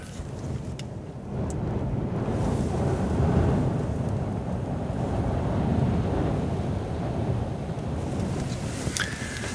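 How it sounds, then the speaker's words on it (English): Strong wind, blowing 40 miles an hour with gusts toward 70, roars and buffets the microphone outside a truck in New Mexico in rising and falling gusts, loudest in the middle, with a few sharp knocks near the start and end. "It is currently blowing 40 miles an hour with predicted gusts up to 70."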